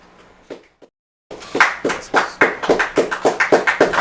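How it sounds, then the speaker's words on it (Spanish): A small group claps by hand to close a Spanish-language talk episode: a few soft taps and a pause, then a run of crisp, rhythmic claps growing fuller and louder. "Aplausos."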